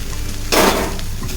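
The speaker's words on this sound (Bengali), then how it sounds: "মিক্স করে দিচ্ছি, সবজিগুলোর সঙ্গে মিক্স হবে।" Dry-roasted broken wheat (dalia) stirred into vegetables in a pan for khichuri gives a single short, gritty scrape mid-clip over steady low background hiss.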